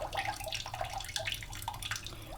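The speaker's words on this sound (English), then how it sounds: "the water is going to drain through the pulp and the screen" Water trickles and drips steadily as it drains through homemade paper pulp and a mold screen, a close, continuous wet patter with small splashes throughout.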